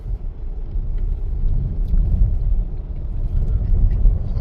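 Inside a 2018 VW Touareg 3.0 TDI on a road, the diesel engine rumbles steadily and low as the gearbox downshifts and the car accelerates, a continuous droning hum with road noise.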